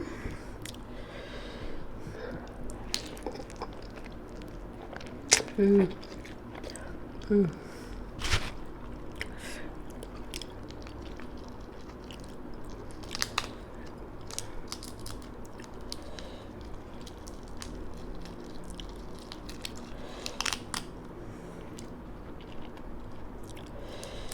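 Spicy boiled giant tiger prawns with red pepper cucumber being chewed in a seafood mukbang, with soft, close, wet bites and crunches scattered over a low steady background.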